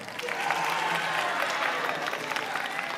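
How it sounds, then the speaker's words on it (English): Audience at a game developer session clapping to cast a vote, a steady, fairly loud wash of applause sustained throughout. "audience, you're going to have to vote with clapping"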